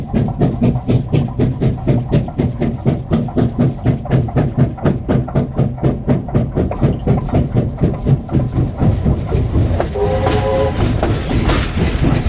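A coal train rumbles along the line at Sandaoling, its wagons beating out a loud, regular clickety-clack over rail joints, with a brief horn-like tone near the end.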